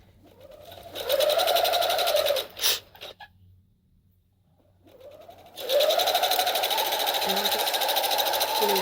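A sewing machine set to a stitch length of about 4 runs along a curved hem in two bursts of steady whirring, with a short pause in between and a voice talking over the stitching.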